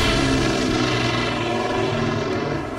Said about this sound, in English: the CL-215 is powered by dual 2100 horsepower engines